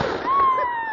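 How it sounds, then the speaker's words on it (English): A massive magnesium sparkler bomb of 250+ sparklers, packed with flash powder from Whistling Petes, goes off in a loud, roaring burst with a rising whistle-like tone, up close. "I love making sparkler bombs"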